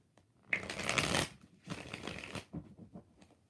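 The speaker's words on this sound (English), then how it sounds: "2 more shuffles" Tarot cards riffle and shuffle in two quick bursts close by, followed by a few soft taps as the deck settles.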